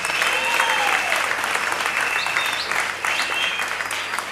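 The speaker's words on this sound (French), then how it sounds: "Applaudissez pour frère Adam" Sustained applause from a crowd in a church during a wedding, steady and loud throughout, with a faint voice and whistle-like tones rising over the clapping.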